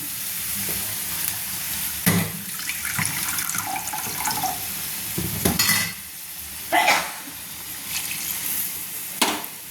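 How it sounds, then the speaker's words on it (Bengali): Bowlfuls of water are poured and splashed into a simmering pot of prawn malai curry, with a watery sizzle and stirring in between. Several distinct pouring bursts come at intervals, close and moderately loud. "এই বাটিটার আমি 4 বাটি জল দিলাম, দিয়ে একটু নেড়ে নিচ্ছি"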